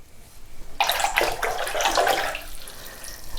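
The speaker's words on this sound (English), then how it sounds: "Rinse off my large brush." A large watercolor paintbrush rinsed in a container of water, a sudden splashing swish that starts after a short quiet pause and keeps sloshing for a couple of seconds before tailing off.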